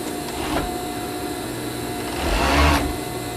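A sewing machine stitches the crotch seam of pajamas, a steady mechanical whir that swells into a louder burst of running near the end, close and without talk.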